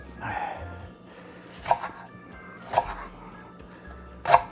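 A knife cuts leeks into julienne on a board in three distinct sharp chops spaced about a second apart, close and clear over a quiet kitchen background.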